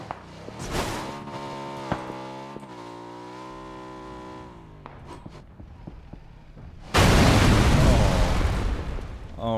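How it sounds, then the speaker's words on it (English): A vehicle explodes in a video game, a sudden loud broadband burst that follows engine and game sounds and holds steady for the last few seconds with no talk over it. "Eski killed the Eski with vehicle explosion."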